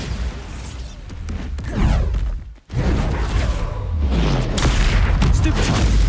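Bombarda blasting spell detonating in Hogwarts Legacy combat, a loud booming explosion after a brief drop to near silence, followed by a dense rumbling roar with layered crashes and whooshes, with voices calling out under the din.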